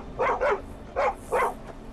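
A dog barks in the video game Skyrim Dragonborn, four short close barks in two quick pairs over a quiet background, no talking.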